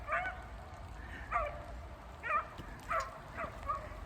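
Dogs out with a walker, a group of about nine, give several short high yips and whimpers in a quick irregular series, fairly faint and at a distance.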